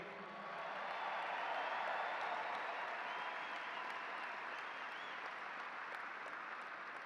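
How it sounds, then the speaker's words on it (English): Crowd applause at a Buffalo Sabres Hall of Fame induction ceremony, a broad, sustained wash of many hands clapping in a large arena, steady and somewhat distant throughout. "Buffalo, please give a round of applause for Julianne Ray"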